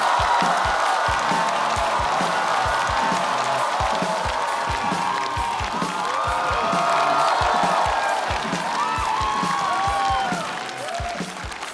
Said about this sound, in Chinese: 掌声有请门腔